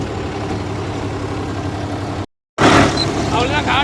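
A tractor with a rotavator tilling a bumpy field, its engine running unevenly with a steady low drone that cuts out briefly and then returns louder, heard up close.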